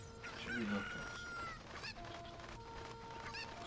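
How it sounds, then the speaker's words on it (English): Cuccos, the chickens of Zelda: Ocarina of Time, cluck and crow faintly in game audio alongside a bright melodic tone, with people talking quietly over it. "How many chickens? I think there are 7 of them."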